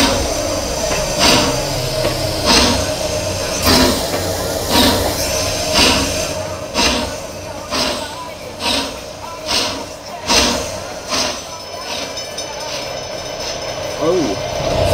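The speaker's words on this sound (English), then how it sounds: "Oh, it's a cool train." Steam express train in the Trainz 2 railway simulator, a Pacific locomotive chuffing in a steady rhythm of regular exhaust beats that quicken slightly over the clip, with a constant mechanical rumble underneath.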